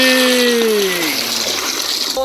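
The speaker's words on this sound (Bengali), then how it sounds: "পানি দিয়ে দিচ্ছি।" Water splashes and gushes into a wok holding washed taro leaves, a steady pouring rush close by, with a brief tonal whine fading at the start and a small clunk near the end.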